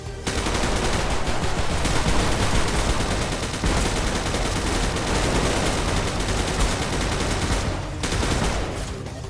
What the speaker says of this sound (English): You can live out your fantasies as an artillerist and dump the whole mag regardless of what enemies are in front of you.